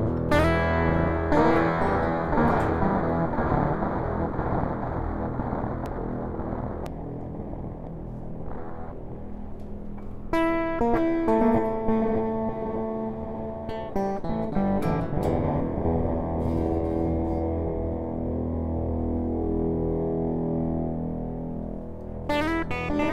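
A harsh, buzzy synthesizer oscillator tone with heavy full-wave rectifier distortion, its pitch and grit shifting as gain and level settings change, sustained and loud with no voices.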